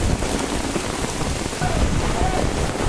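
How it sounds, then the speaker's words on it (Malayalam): Heavy rain pours down at Matheran, a hill station near Mumbai, amid gusty wind, a dense, steady hiss of drops hitting surfaces close around, with no break in the downpour. "അപ്പൊ നല്ല മഴയാണ്"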